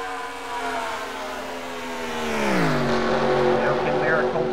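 Race cars in a short-track heat race roar past together on the track, engine notes sliding down in pitch as they pass close by, loud and continuous with no talking.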